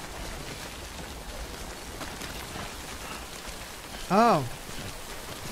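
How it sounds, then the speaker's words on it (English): Timefall rain hisses steadily in the video game Death Stranding, a soft even wash that continues throughout, broken near the end by a brief short voiced exclamation. "Don't stay out in the rain any longer than you have to."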